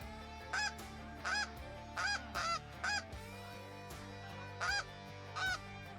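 A small flock of snow geese flies in, honking in scattered single calls, fairly close and clear over a low steady background hum.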